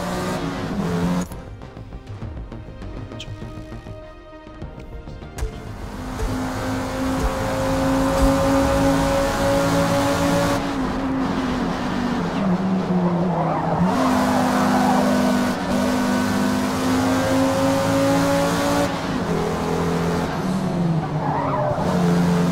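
Race car lapping the outer loop carousel of Watkins Glen in Forza Motorsport, its engine holding a loud, steady whine with sustained tire squeal and skidding running through the whole stretch.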